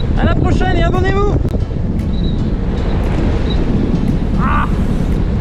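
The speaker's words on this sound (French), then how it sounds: "il y a beaucoup de vent" Strong wind buffets the microphone steadily during a gravel bikepacking ride from Toulouse to Aveyron, a loud continuous roar, with a few birdlike chirps and brief squeaks on top.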